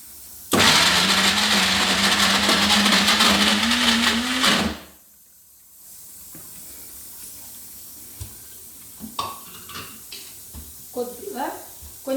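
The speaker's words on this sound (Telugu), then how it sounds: "దీన్ని మనం ఇప్పుడు మిక్సీ చేసి చూపిస్తానండి మీకు" A mixer grinder blends a mutton kheema mixture in its jar with a loud, steady whirring roar for about four seconds. It then cuts off abruptly, and a few faint clinks and light handling sounds follow.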